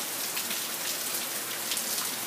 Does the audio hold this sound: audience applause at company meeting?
no